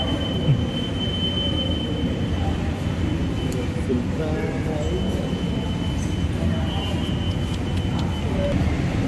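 A Kochi metro train runs with a steady, close rumble and a thin, high wheel squeal. The noise holds evenly throughout while people talk over it.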